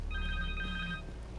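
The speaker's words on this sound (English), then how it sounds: "Connor's cell phone." Cell phone ringing in the Spider-Man 2 video game, a repeating electronic ringtone with steady tonal beeps, heard alone for just over a second amid low game background hum.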